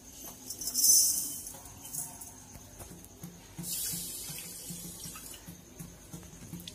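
Water streams into a pan with half a cup of sugar to make sugar syrup, a steady, fairly soft pour with light splashing that swells and eases over several seconds.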